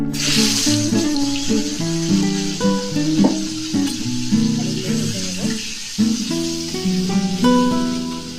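Salted, turmeric-coated potatoes hit hot oil with browned whole cumin and sizzle steadily in a pan. A bright hiss holds throughout, while melodic background music plays alongside.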